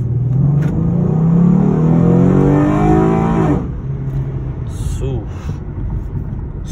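A car engine revs hard and roars loudly for about three and a half seconds, then drops to a steady lower idle rumble with a brief chirp near the end.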